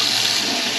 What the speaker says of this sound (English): nice hot water coming through there now.